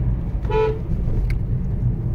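A single short, musical toot from a modified car horn on a Hyundai Grand i10 Nios sounds over a steady engine rumble, close and clear.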